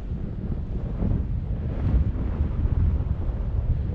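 Wind buffets the microphone at an RC glider flying field during the first flight of a homemade glider: a steady, close, low rumbling roar with gentle swells and no talking.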